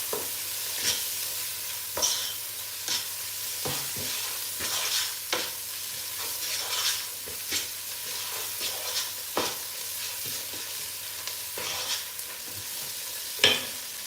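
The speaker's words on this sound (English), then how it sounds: "I'm going to add the seasoning. And I'm going to just keep on stirring it." Steady stirring scrapes through a Nigerian dish in a frying pot after seasoning goes in, with a soft continuous sizzle and irregular clinks of the spoon against the pot close by, alone without voices.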